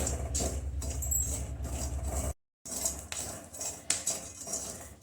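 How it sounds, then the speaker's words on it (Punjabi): Chickpeas roasting in a pan while being stirred, heard as dense metallic rattling and scraping against the pan, loud and continuous apart from a brief silent gap near the middle, with no voices. "ਥੋੜੇ ਥੋੜੇ ਚਣੇ ਕਰਕੇ ਇਹਨਾਂ ਨੂੰ ਹਲਾ ਹਲਾ ਕੇ ਆਪਾਂ ਭੁੰਨ ਕੇ ਤਿਆਰ ਕਰਾਂਗੇ"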